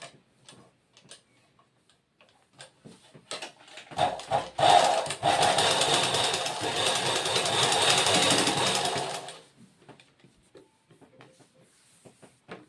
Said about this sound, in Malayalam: ഇതുപോലെ ഈ ബെൽറ്റ് നമുക്ക് തയ്ക്കണം.